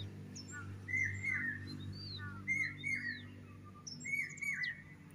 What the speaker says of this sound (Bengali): ওটা জানি কি পাখি ডাকে